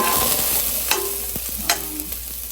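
Tambakol tuna fries in a pan with ginger, a steady close sizzle with a few spatula scrapes and taps along the way.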